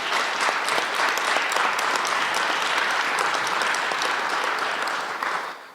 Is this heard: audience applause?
yes